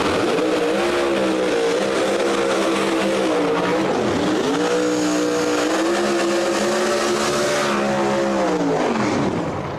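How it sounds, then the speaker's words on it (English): A no-prep drag race car at New England Dragway roars loudly at close range, its engine note rising and dipping as it accelerates hard, then revs back up in a sustained snarling run. "So Reaper, front tire's in the air, car drives hard left, has to get out of it."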